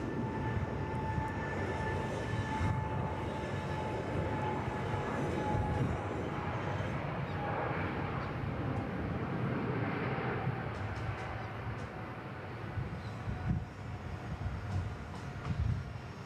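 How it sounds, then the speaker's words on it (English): A Thai Airways Boeing 777 departs Bangkok Suvarnabhumi Airport, its engines giving a steady, loud, broad roar with a faint whine that holds throughout. "Lovely departure there. Love the beautiful sounds of the 777."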